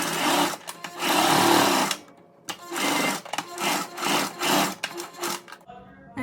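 Sewing machine stitching down the pleats of a homemade fabric face mask, running in several short bursts of steady mechanical whirring with brief pauses between seams, close and fairly loud.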